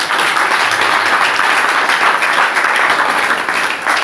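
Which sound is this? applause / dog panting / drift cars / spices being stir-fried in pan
applause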